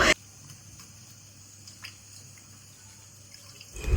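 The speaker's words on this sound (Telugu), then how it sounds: "చూసారా ఎంత చక్కగా వాటర్ బాయిల్ అవుతుందో" Soft, steady bubbling and gentle simmering of water in a pot for mutton biryani, heard close up with faint drips and no talking.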